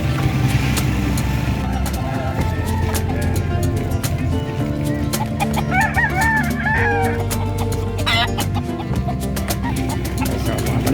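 Fighting roosters crow over a busy, noisy livestock market in San Carlos City, with clucking and other birds nearby and traffic rumbling steadily throughout.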